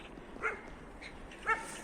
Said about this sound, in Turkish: Sahilde böyle köpekler var.